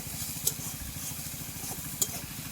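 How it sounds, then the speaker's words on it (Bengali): Chopped onions frying in oil until brown for a Bengali rui fish curry (kalia), a steady low sizzle and bubbling with two brief sharp crackles, close and continuous. "পেঁয়াজগুলোকে আমি বাদামি কালার করে ভেজে নেব"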